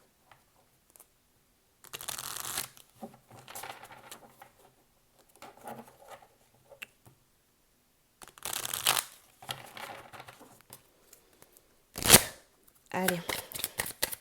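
Oracle cards are shuffled by hand in several close, brisk bursts of papery riffling and patter, separated by quiet gaps, with a voice speaking briefly between them.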